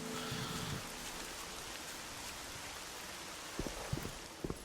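Rain falling at night in the video game S.T.A.L.K.E.R. Shadow of Chernobyl, a steady, dense hiss of downpour with a few soft thuds toward the end.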